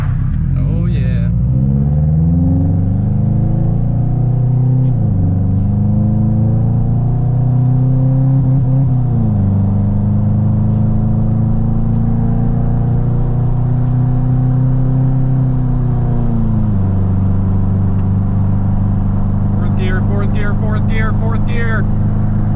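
A Subaru Legacy GT accelerates on a freeway, its engine droning loud and close and climbing in pitch through the gears, with drops at each shift and a constant rumble underneath.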